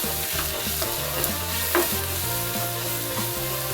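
Grated cauliflower frying in hot oil with cumin, a steady close sizzle with bursts of stirring and scraping from a spoon in the pan.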